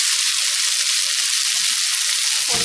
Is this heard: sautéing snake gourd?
yes